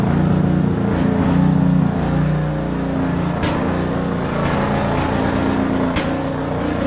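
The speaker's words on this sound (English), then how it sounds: "Skid loader still runs like crap." A skid loader's engine runs rough with an uneven, sputtering idle, the operator planning new ignition coils and spark plugs for it. It chugs steadily and loud nearby for several seconds with no talking.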